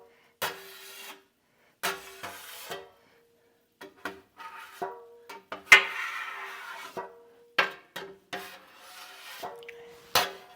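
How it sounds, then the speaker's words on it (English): A griddle scraper scrapes leftover food and egg residue off a griddle in bursts of harsh metallic rasping strokes, several passes separated by pauses and clatter, close and fairly loud. "to be able to get all the stuff off. It's called a griddle scraper."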